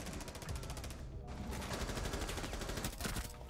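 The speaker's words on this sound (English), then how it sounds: "I'll be seeing a gunfire right here." Rapid bursts of automatic gunfire in Rainbow Six Siege crackle continuously, dense and loud, with a short gap before the shooting resumes.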